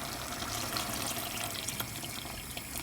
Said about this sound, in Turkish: Şimdi suyunu ilave edeyim.